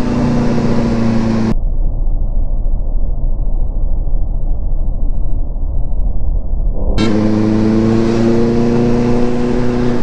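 A superbike engine runs loud and close on a Bhutan night street, holding a steady droning roar with strong harmonic tones. For several seconds in the middle the sound turns abruptly muffled and dull, then returns to full brightness.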